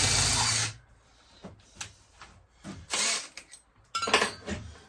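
A tool works the burrs off a cut battery cable end for a solar system in a short loud grinding burst, followed by scattered scraping and brief buzzing bursts nearby.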